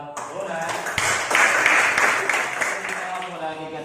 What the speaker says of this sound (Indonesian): kita berikan tepuk tangan buat Bona